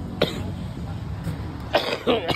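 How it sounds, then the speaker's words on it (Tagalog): A single short cough, then two more close together after a pause, fairly near, over quiet room tone. "inuubo talaga ako"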